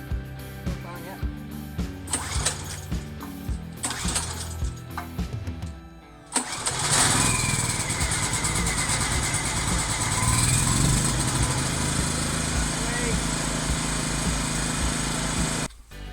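A brand-new 6 kW generator, starting for the first time, takes several rough pull-start attempts, then catches and settles into a loud, steady running drone close by.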